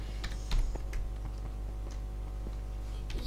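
Keys clatter on a computer keyboard in short irregular bursts of quick clicks over a low steady hum, fairly faint and close, with no talk.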